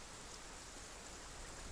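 Light rain in Dragons Dogma 2, a faint, even hiss of fine raindrops falling steadily with no voices.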